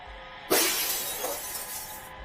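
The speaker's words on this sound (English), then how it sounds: "The glass slipped from my fingers, shattering on the floor." Glass slips and shatters on a floor, a sudden loud crash at about half a second followed by a sustained bright scatter of tinkling shards that fades slowly, with no voices.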